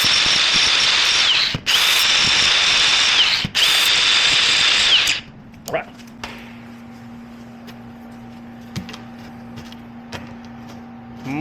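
A handheld grinder whines loudly and steadily against the cut wire edge of a homemade mud minnow trap for about five seconds, with two short breaks, then spins down and leaves a low hum.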